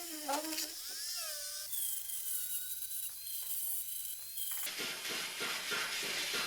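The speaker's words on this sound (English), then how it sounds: "I used a rotary tool and tiny steel wire bits to get to the hard to reach places." Rotary tool spinning tiny steel wire bits against a BMW E30 jerry can, a loud high whine that shifts pitch as the bit loads and frees, with gritty scraping bursts near the end.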